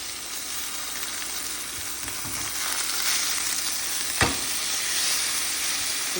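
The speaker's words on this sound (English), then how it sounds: "Sizzle, sizzle." Food sizzles steadily in a hot pan, a constant crackling hiss from frying fish, with a brief clunk of a utensil midway.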